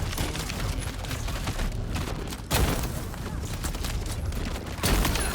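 Loud, continuous gunfire and explosions from the Dune: Awakening video game, a dense sustained barrage of shots with heavy booms, including sharp blasts near 2.5 and 4.8 seconds.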